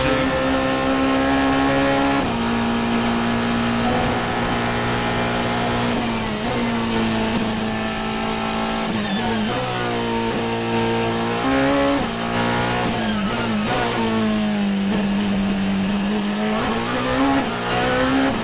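A race car in a racing video game, engine droning loudly and steadily with pitch shifts through gear changes, and tires squealing through corners, continuous and close with no talk.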